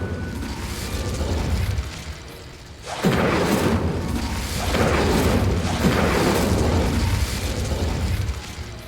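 Incendio fire spell cast in Hogwarts Legacy, a sudden whooshing burst of flame followed by repeated rolling fiery surges and booms over a low rumble, loud and close.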